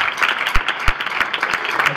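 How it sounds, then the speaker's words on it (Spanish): A church congregation applauds for the Lord, scattered irregular hand claps with a few sharper close ones, fairly light and lively over a short span. "Podemos dar un aplauso para el Señor, por favor"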